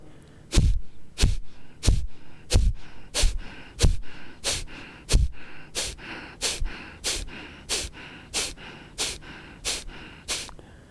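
Kapalbhati pranayama, a forceful yogic breathing exercise taught by a yoga guru, sounds as a steady train of about sixteen sharp, loud nasal exhalations, evenly spaced roughly every two-thirds of a second, with no talk.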